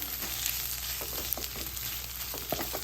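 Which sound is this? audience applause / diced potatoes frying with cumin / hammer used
diced potatoes frying with cumin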